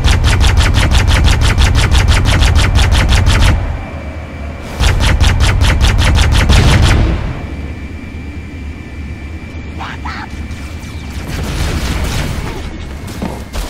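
Rapid automatic gunfire in Halo Anniversary comes in two long, loud, evenly spaced volleys, followed by a rumbling vehicle drone and distant booms.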